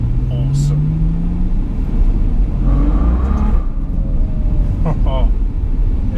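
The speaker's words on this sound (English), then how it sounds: "we've got a Ferrari V12 that just accelerates and sounds insanely awesome" A Ferrari GTC4Lusso's V12 engine accelerates on a city drive, a deep rumbling engine sound rising in pitch behind an excited voice, steady and fairly loud throughout.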